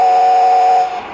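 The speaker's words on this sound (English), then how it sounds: "we blow the American whistle" Steam whistle of an Accucraft K27 Mudhen gauge 1 radio-controlled model steam locomotive, an American-style whistle sounding as one steady, loud, sustained blast for about a second before cutting off.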